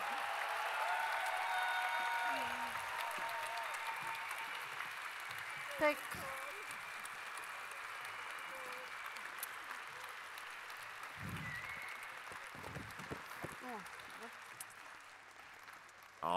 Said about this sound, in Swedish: Världens största applåd för alla artisterna.